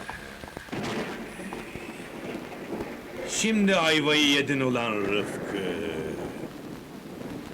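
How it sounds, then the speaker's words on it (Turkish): Steady rain patters throughout while someone speaks loudly, his voice rising in the middle; the downpour hiss stays constant beneath the talk. "Yağmur yağacak dedin yağdı hem de bak nasıl."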